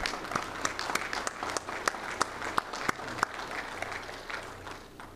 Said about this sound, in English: how about a round of applause for all of the support network for these young men and women